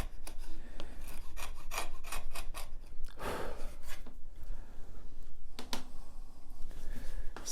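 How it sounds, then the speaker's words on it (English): A chisel wiggled and pushed into pallet wood, repeated short rasping scrapes in an uneven rhythm, close up and without talk. "So I'm putting the corner of my chisel on there, and I'm wiggling and pushing"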